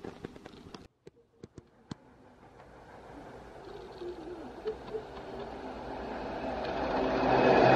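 A train passing through Tamworth station, with a few sharp clicks early on, then a low rumble that builds steadily as the train draws closer and grows loud toward the end.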